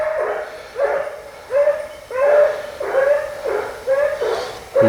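Grand bleu de Gascogne basset hounds baying while hunting hare, loud drawn-out bays repeating in an irregular rhythm close by.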